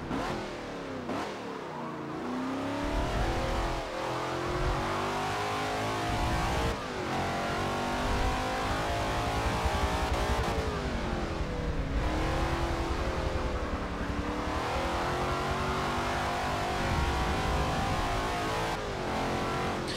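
Shelby Cobra 427 with a 7.0-litre V8 racing at the Nürburgring Nordschleife in Forza Motorsport 7, a loud continuous engine roar that climbs and drops through repeated rev sweeps and gear changes for the full twenty seconds, with no voices.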